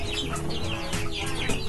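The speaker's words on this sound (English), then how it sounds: "You have the chickens down here." Several chickens clucking and chattering close by, overlapping calls in an irregular stream with no talking.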